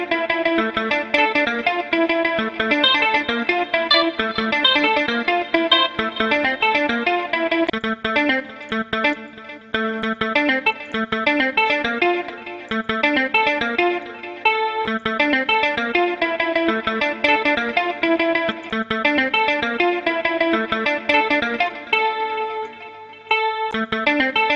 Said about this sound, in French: Voilà, c'est une guitare de mon VST Simple Things.